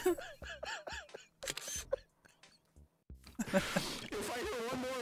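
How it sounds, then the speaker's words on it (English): Camera shutter clicks from a single-lens reflex camera, a quick series of sharp snaps at close range, mixed with voices talking and then a dense burst of noise toward the end. "If I hear one more camera shutter sound"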